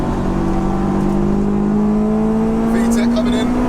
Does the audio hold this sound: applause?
no